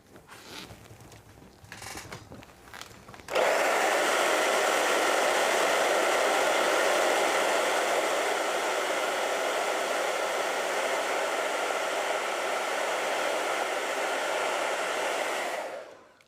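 Hair dryer blowing steadily on an acrylic painting, a loud continuous whooshing roar that starts abruptly after a few seconds of quieter handling noise and runs unbroken until it cuts off at the end.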